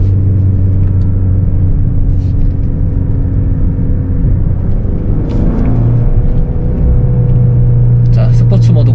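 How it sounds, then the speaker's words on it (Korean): A Hyundai Sonata N Line drives on the road in normal mode, its engine rumbling steadily from inside the cabin. The engine note shifts pitch as the gears change up and down. "다운시프트가 빠르고 업시프트가 부드럽네요."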